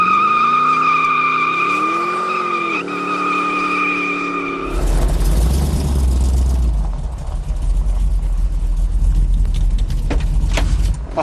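A big-block Baldwin Motion muscle car engine roars close by, shifting from a tonal whine into a loud, rough, deep rumble with bursts of tire noise as it pulls away hard.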